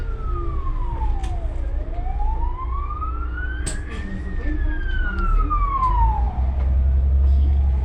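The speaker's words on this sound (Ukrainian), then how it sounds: "десь їде швидка, да? ми чуємо спереду" An ambulance siren wails in rising and falling sweeps as it passes, loud over steady road and engine rumble.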